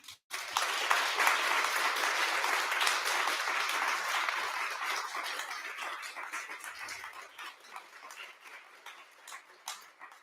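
Audience at a women's leadership event gives a sustained round of applause after a panel conversation, loud at first, then gradually thinning into scattered individual claps.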